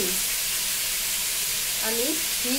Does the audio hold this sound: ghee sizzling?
yes